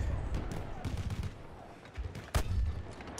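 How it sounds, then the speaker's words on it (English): Artillery fire in the Battlefield 1 video game: dull, booming shell impacts and scattered gunfire under a low battlefield rumble, with one sharp, louder blast near the end. "I'm gonna use my artillery."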